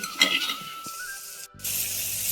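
Onion and tomato frying in a pan, with a soft, steady sizzle and a few light clinks of a utensil stirring against the metal, close by and fairly quiet.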